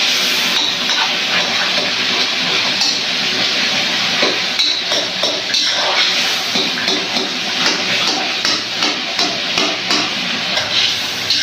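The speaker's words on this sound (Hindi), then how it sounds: "देखिए अब हम इसे मिक्स कर लेंगे।" Chicken karahi for a Peshawari charsi recipe stirred in a pot, with repeated clinks and scrapes of a utensil against metal over steady sizzling, loud and close with no talk.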